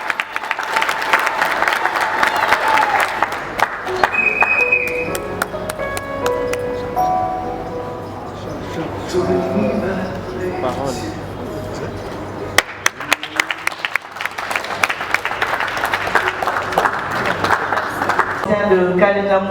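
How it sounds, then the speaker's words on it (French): Audience applause fills a book-launch ceremony, steady crowd clapping sustained throughout with a brief lull midway, with music and voices mixed underneath. "on applaudit très fort"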